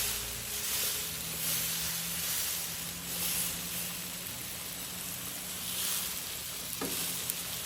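Chicken thighs stuffed with asparagus and green onion fry in a hot pan, giving a steady, close sizzle and hiss throughout, with faint scrapes and a brief clunk near the end.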